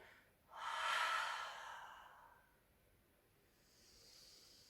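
A long, audible exhale during a spine-mobility Pilates exercise swells in about half a second in, breathy and close, then tapers over two seconds, followed by a softer second breath near the end.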